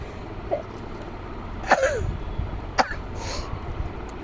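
Two or three short, rough coughs from someone with a cold, spaced a second or so apart, close by, with quiet murmuring between them.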